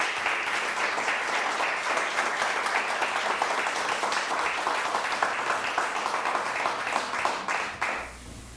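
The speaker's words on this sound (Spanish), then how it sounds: "Denle un aplauso al Señor." A church congregation claps together in a dense, steady round of applause that runs loud and unbroken for about eight seconds, then drops off sharply at the end.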